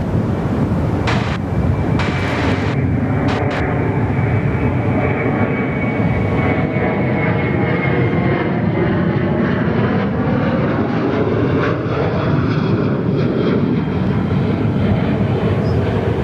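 Qantas airliner taking off at Perth Airport, a loud sustained engine roar building with whining tones that slide and shift as it accelerates, a few brief clicks near the start.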